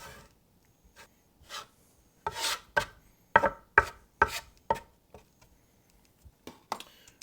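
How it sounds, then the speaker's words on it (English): A dough scraper scrapes and taps against the work surface as it gathers potato gnocchi dough into a pile and presses it down, producing a series of short, close strokes that cluster in the middle, with no talking. "we're going to use our scraper to pull this into a pile and kind of press down on it a little bit"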